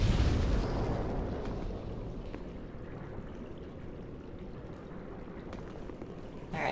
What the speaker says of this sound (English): they're the same kind of exploding orbs, except they're white instead of yellow, and these ones move